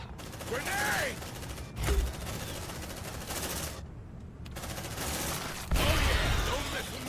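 Suppressive fire in Aliens: Dark Descent comes as bursts of rapid automatic gunfire broken by short pauses, fairly loud, with voices mixed in.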